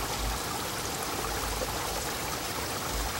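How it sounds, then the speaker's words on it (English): Water running beneath a small dam from a garden pond toward a brook, giving a steady, even rushing wash that holds constant throughout with no voices. "You can hear some water underneath."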